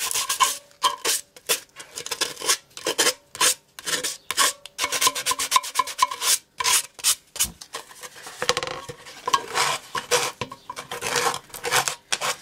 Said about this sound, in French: Alors, on passe le papier de verre.